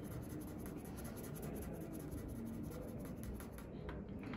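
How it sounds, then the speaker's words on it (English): A pencil scribbles hard across paper to make a very dark mark, a steady continuous scratching with no pauses, close and fairly quiet against faint background hiss. "Then we're going to take our pencil and make a really dark mark."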